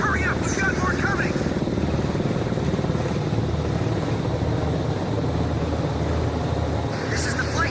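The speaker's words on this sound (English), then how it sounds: "Fighters launch!" Fighter jets launching off an aircraft carrier deck in the video game Ace Combat 5, a dense, steady engine roar that fills the whole clip, with brief radio-style voice bursts at the start and end.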